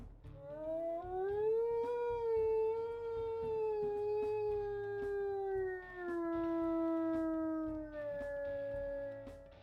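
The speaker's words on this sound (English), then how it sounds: "we'll listen to his howls here." A wolf in the video game WolfQuest howls in two long, clear, sustained calls. The pitch rises and then slowly falls with a short break between them, over a faint steady background.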